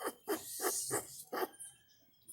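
Dogs scuffle nearby, giving a run of five quick, rhythmic snarling barks and huffs followed by fainter whimpering growls that trail off.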